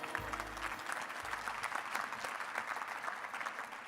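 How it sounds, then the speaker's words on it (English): Audience applause at a startup pitch competition, a warm burst of many hands clapping steadily throughout, with a few faint low thumps near the start. "Give it a warm applause."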